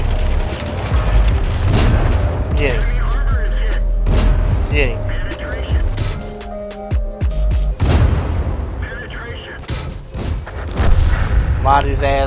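Heavy tank cannon blasts boom repeatedly in a World of Tanks battle, several loud thuds and crashing impacts spread across the stretch, with mechanical clanks and game effects layered over a constant rumble.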